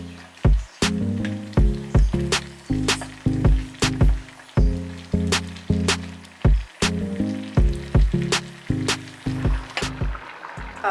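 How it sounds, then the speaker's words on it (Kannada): Vegetable pulao with soaked rice boils in an open pressure cooker over a flame, giving steady bubbling and rhythmic plopping bursts roughly every half second, close and moderately loud with no talking. "ಕುದೀತಾ ಇದೆ"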